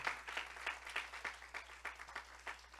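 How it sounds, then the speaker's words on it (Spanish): A church congregation applauding, a steady wash of many hands clapping at moderate distance with a faint underlying room hum and no voices over it. "Denle un aplauso al Señor"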